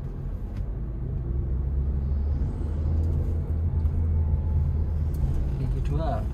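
Low, steady engine rumble from inside a Suzuki Ertiga pulling away in first gear, droning continuously and close, with a faint high rattle near the end.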